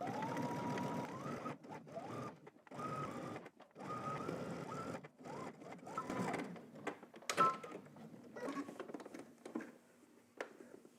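A sewing machine stitching in the ditch to close a placket fold, bursts of quiet rapid stitching separated by short pauses, with a soft whir rising and falling near and no talk.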